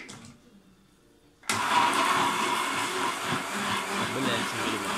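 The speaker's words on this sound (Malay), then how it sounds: "Blend sikit." A blender whirs up after a quiet moment, chopping garlic with green chili, shallots and ginger for Penang-style pickle, a loud steady motor drone that starts abruptly and keeps running.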